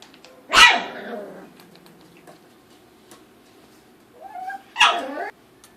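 A dog barks twice in sharp, loud bursts with a low rumbling growl between them, close and alone without speech.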